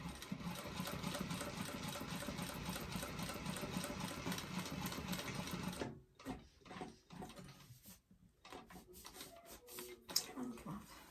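Sewing machine back stitching a bag seam runs steadily for about six seconds, then stops and restarts in short stuttering bursts, close and fairly loud.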